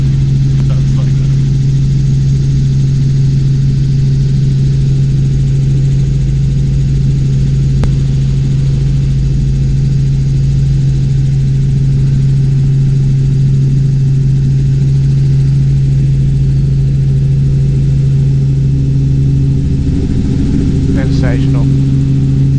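Robinson R44 Clipper II helicopter engine droning steadily in flight over the 12 Apostles coast, a loud constant hum from the cabin throughout with a brief burst of other sound near the end.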